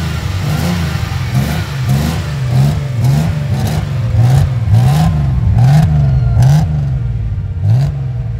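A classic Nissan Hakosuka Skyline GT-R engine revs in quick repeated blips, each burst rising and dropping in pitch, loud and close with a rough idle between.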